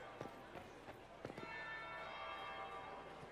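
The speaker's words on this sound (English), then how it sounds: "That would be the second bell." A church bell in Dragon Age: Inquisition rings with a soft, lingering tone behind scattered thuds and footsteps, faint and somewhat distant in the game ambience.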